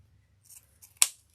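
Sharp scissors snip through ribbon tails while a wreath is being made, with faint rustling of ribbon first and then one crisp, close cut at the end.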